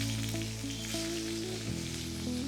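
Chopped onion with cloves, cardamom, cinnamon, green chilli, ginger and garlic sauté in a pan for meatball curry, making a steady, close sizzle over faint sustained tones in the background.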